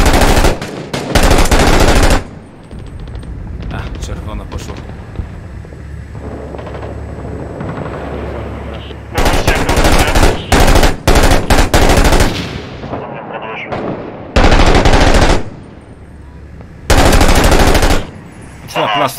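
Heavy video game gunfire in repeated loud bursts, long machine-gun-like volleys alternating with rumbling battle noise between them, no talk over it.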